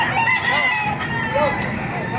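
A rooster crows nearby, a drawn-out call with other fowl faintly audible in the background.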